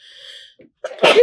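A single sharp sneeze bursts out at the end, preceded by a short tonal sound and a faint breath.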